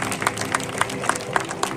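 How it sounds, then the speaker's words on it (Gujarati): A seated audience at a Swaminarayan religious gathering claps in a quick, even rhythm, about four claps per second, in a short, moderately loud burst. "તાળીઓ પાડો બધા"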